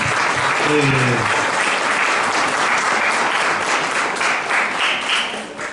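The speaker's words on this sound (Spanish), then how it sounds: "Brindémosle nuevamente un aplauso a Magdalena y también a nosotros por estar aquí" Audience applause after a talk on banning mobile phones in schools, a loud continuous roll of many hands clapping for nearly six seconds, with a brief voice at the start.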